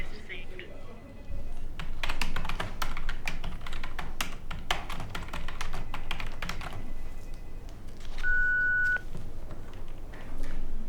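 Phone keys clicked in a quick run of taps with a short electronic beep near the end, set in an office over a steady background murmur.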